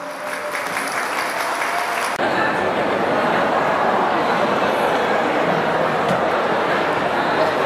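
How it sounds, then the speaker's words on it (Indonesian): Applause for teachers at a school reunion of SMK Pratiwi in Singkawang, a hall crowd clapping loudly and continuously after a spoken introduction at the start. "Beri aplaus dulu untuk para guru kita semua."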